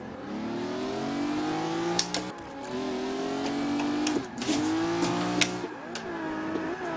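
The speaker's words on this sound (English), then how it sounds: "I heard that clutch kick." Engine of a drift car in Forza 5 during street-style tandem runs, a loud, sustained whine that rises and falls as the revs swing, with brief cuts and kicks where the revs drop and jump back up.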